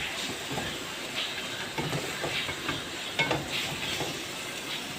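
Black chickpeas being turned through a roasted masala in a pot: a moderate sizzle with soft scraping strokes at irregular intervals, with no one talking.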